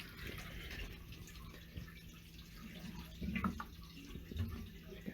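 Water drains out through a pressure relief valve in a steady, faint trickling hiss, with a couple of soft gurgles and knocks near the end.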